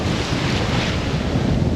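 Strong wind of about 20 knots roars across the microphone at sea in the Strait of Bonifacio, blending with the broad rush of waves, steady and loud throughout.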